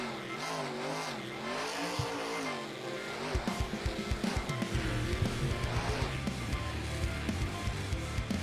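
The Gravedigger monster truck in the Rigs of Rods simulator, its engine droning and rising in pitch, then rapid rattling thumps and clatter as it drives over rough terrain. A commentator's voice sits faintly in the mix.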